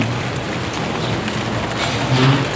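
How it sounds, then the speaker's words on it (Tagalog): Steady rain pours down at a two-storey residential house construction site in the afternoon, a loud dense hiss of drops drumming on surfaces, continuous and close with a slight swell near the end. "buti hapon na umulan"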